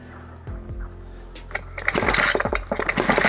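A brushcutter engine with a starting problem sputters on repeated pull-starts without catching, giving a few low coughing thumps and then a brief rough burst of firing.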